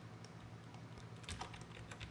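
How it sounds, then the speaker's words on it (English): Keys tapped on a computer keyboard while entering a name for a new solid layer in motion-graphics software; a quiet run of irregular close clicks over a faint steady hum. "Now I'm going to rename this solid by hitting return on the main keyboard"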